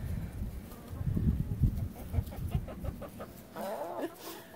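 Hens cluck and murmur close by as they peck at a treat of organic apple scraps, a steady run of soft low clucks with a few higher calls toward the end.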